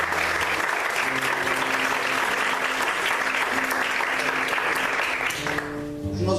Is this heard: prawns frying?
no